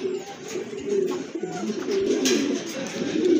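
Soft, repeated coos from pink-beaked Indian lotan pigeons close by, a steady low rolling murmur from several birds with faint chirps in the background.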